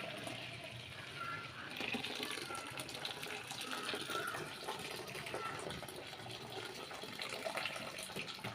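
Water from cooked dal pours steadily through a kitchen strainer into a pot, a soft continuous splashing gush that lasts throughout at low volume.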